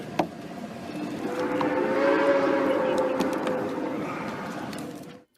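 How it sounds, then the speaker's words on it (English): A sightseeing train passes through a park, its sustained whistle-like tone rising and fading in the background over a few seconds. "You can actually hear in the background at the end there the train"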